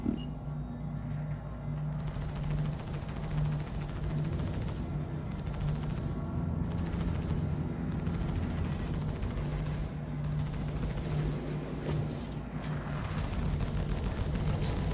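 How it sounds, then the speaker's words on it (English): Cutlass ship firing laser repeaters in Star Citizen, a steady stream of rapid energy shots that runs on without a break, with a few short pauses and some low engine rumble underneath. "the build being used with the Cutlass uses laser repeaters to put high alpha damage rounds downrange fast"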